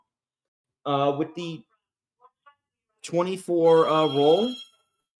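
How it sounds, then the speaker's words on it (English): A telephone rings during a tabletop Pathfinder role-playing session, a sustained tonal ring that follows a man's brief speech and plays against otherwise quiet background. "Pardon the phone."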